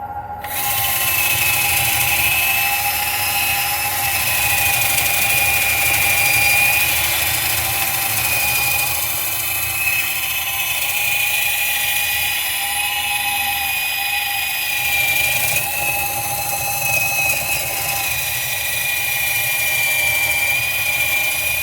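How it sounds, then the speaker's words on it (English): Green wood bowl spinning on a lathe with a 300-grit sanding wheel pressed against it: a loud, continuous whining drone with a steady tone and slight shifts in pitch, close and unbroken, with no talk. "We're gonna sand it out here a little bit and see if it'll get any smooth."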